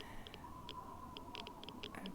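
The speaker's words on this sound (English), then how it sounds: "A little morning rad rain." Radioactive rain in Fallout 3 falls as a steady, soft patter throughout, with scattered small drop ticks over a faint continuous hum.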